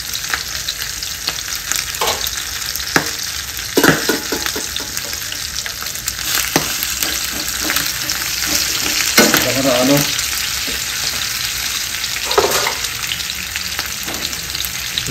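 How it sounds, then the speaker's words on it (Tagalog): Food fries in a kawali pan over a flame, giving a close, steady crackling sizzle with occasional louder pops and stirring clatters throughout. "Masarap po talaga pag nag-iinit ng mga prito sa oven o kaya sa kawali."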